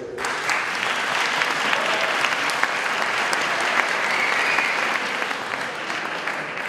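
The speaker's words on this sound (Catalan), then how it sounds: "Fort aplaudiment per ell." A concert audience at a charity concert in Casserres breaks into strong applause, dense sustained clapping from many hands that carries on evenly throughout.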